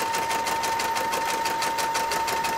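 A sewing machine stitching with a free-motion cording foot, a fast, even mechanical whirring with a rapid needle rhythm, close and continuous throughout.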